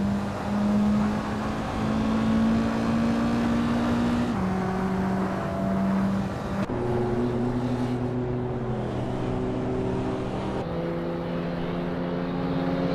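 Engines of 2006 Porsche Cayman S cars racing in a video game, a steady, loud droning whine whose pitch shifts and steps as gears change, running continuously without talk.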